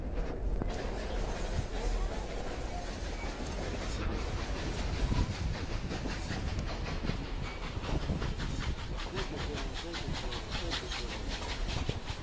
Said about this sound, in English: It's going chugga chugga.